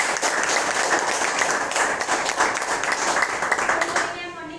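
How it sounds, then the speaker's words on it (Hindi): An audience applauds a woman named Jyoti Rathore at a gathering, and the clapping comes as a dense, sustained burst from many hands. It fades away near the end. "ज्योति राठौर मैम को जोरदार तालियां"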